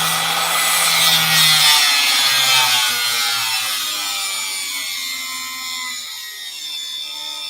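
A hand saw cuts a part for a model P-47 wing, giving close, steady rasping strokes that are loud at first and fade gradually toward the end, with no talking.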